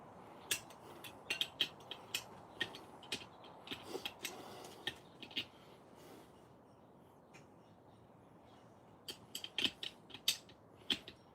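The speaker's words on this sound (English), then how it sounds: "We'll tighten down the rim lock." Dirt bike rim lock and valve stem being tightened by hand tool, giving a run of quiet, sharp ratcheting clicks and metallic ticks in bursts, pausing midway and then resuming, with no talk.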